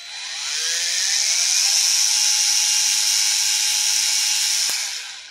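A small rotary polisher, a compact 1- to 3-inch unit with interchangeable backing plates, runs at steady speed for polishing a Jeep Wrangler, giving a loud, continuous high whine that holds for several seconds before cutting off, with no talk.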